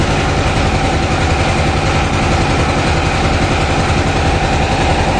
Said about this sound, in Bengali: এক ইঞ্জিনের লঞ্চ দেখতে পাচ্ছেন